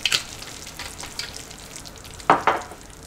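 Beef with a spoonful of sesame oil is stirred in a pan just off the heat, giving a faint background sizzle broken by a few sharp scraping clatters of the utensil against the pan.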